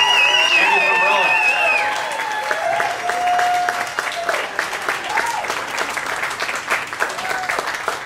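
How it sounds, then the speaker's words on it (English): A crowd applauds at a judged contest on a local TV news broadcast. Voices and tonal sounds come first, then the dense clapping swells and carries on for several seconds with individual claps audible. "We've got an excellent round of applause here, guys."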